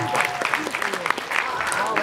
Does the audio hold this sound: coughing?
no